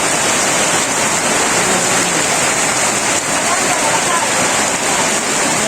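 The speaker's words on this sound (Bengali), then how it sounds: "অনেক সুন্দর বৃষ্টি নামছে।" Heavy rain pours steadily in a village, a dense, loud, continuous hiss and patter of drops on surfaces with no letup.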